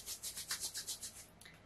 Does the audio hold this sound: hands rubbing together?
yes